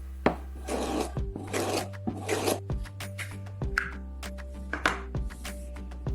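Kitchen knife drawn repeatedly through a slotted plastic tube sharpening guide, giving about five distinct rasping strokes in a steady rhythm, close and fairly loud, with no talk.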